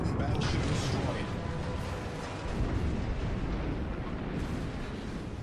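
A battleship explodes in the naval game World of Warships, a dense, sustained roar of deep rumbling blasts and crackling debris that fills the whole stretch at steady loudness, with game voice lines mixed in.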